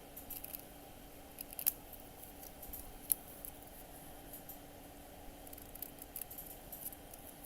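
Small paper pieces for miniature books are trimmed with scissors, giving faint, sparse snips and soft rustles over a quiet room hum, with one or two crisper clicks standing out.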